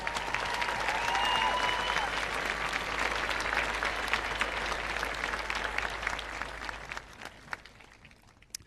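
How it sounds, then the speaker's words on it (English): A large crowd at a high school graduation ceremony applauds in a dense, steady roar of clapping that holds for several seconds, then thins and tapers toward the end. "can you please give them a big, huge round of applause?"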